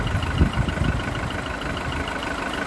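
A VW Golf engine idles roughly while not yet warmed up, a steady low rumble with a slightly uneven, shaking pulse, heard close and alone.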